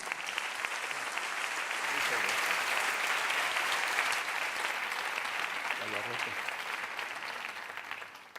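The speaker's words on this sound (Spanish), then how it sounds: "Un fuerte aplauso para Juan Ignacio Pareñaco Pérez." An audience gives a speaker a strong round of applause at a science talk event, dense clapping that swells, holds and then tapers off, with a few faint voices underneath.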